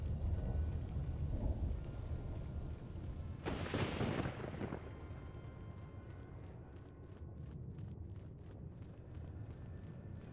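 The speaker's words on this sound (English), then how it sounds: "Do without the thunder, just saying." A single rolling clap of thunder rumbles through a Star Wars KOTOR 2 game scene. It swells for about a second over a steady bed of rain and ambient noise, then fades.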